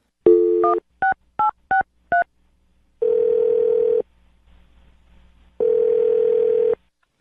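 Telephone tones: several short touch-tone beeps dialed in quick succession, then two long steady ringback buzzes separated by a pause, loud and clear.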